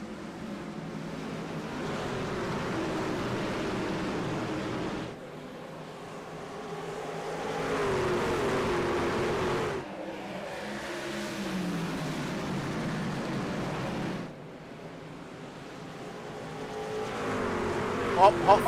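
Pack of racing trucks roaring off at the green-flag start of an I2I Truck Series championship round at Indianapolis Raceway Park, a loud continuous engine drone swelling and fading in waves as the field passes.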